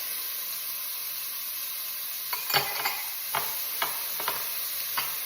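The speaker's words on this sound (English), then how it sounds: "I'm gonna go ahead and add the chopped onions." Chopped onions and carrots hit a preheated pot for butternut squash soup and start a continuous loud sizzle. A few sharp stirring scrapes and clicks break through the hiss, close up and with no talk.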